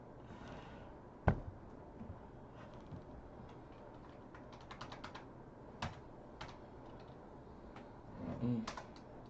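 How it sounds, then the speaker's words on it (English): Someone types on a keyboard with scattered soft clicks and short bursts of keystrokes over quiet room noise, broken by one louder knock and a brief low murmur near the end. "I'm just typing."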